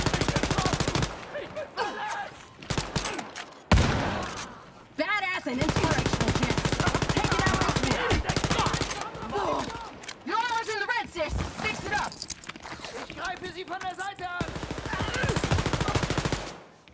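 Rapid automatic gunfire from the shooter game Wolfenstein: Youngblood, set in New Berlin, with dense bursts and long sustained volleys broken by brief pauses, loud and close, under someone talking.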